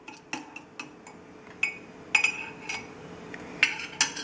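A spoon clinks against a mug while lightly mixing coffee cake batter, a series of sharp, irregular metallic taps close by with quiet pauses between strokes.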